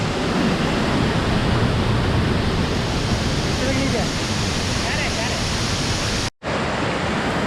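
Barkana Waterfall on a forest trek to Narasimha Parvat, a loud, steady roar of falling water that fills the whole clip, broken only by a brief dropout near the end.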